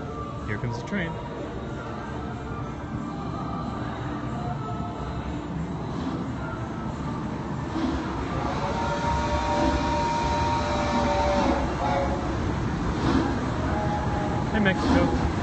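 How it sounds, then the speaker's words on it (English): A train approaches in New Jersey with a continuous low rumble that slowly builds louder, while people talk over it. "Here comes the train."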